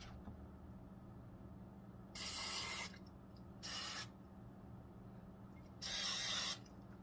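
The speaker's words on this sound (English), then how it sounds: "spray with some hairspray to further create a stronger hold and bond" Hairspray hisses from an aerosol can onto hair in three separate bursts of about a second each, close and distinct, with quiet pauses between them.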